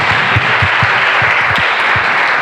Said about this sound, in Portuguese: Você pode aplaudir a Ele por...